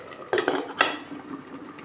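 A metal lid clanks twice onto a cooking pot of grouper sinigang, sharp close clinks followed by a soft settling rattle, with no talking.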